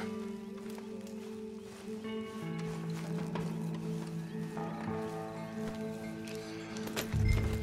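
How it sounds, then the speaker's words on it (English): A horse's hooves clop along in the Red Dead Redemption western game, a soft steady rhythm beneath sustained musical drones and tones, with no voices. "Now we need to get on our horse."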